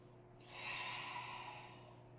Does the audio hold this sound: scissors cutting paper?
no